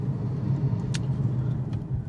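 A Mercedes car fitted with a new turbo is out on a test drive, with a steady low engine and road rumble throughout and a couple of brief higher clicks or squeaks over it.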